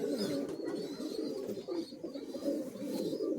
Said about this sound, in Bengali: এগুলো আন্ধ্রা পায়রা অ্যাকচুয়ালি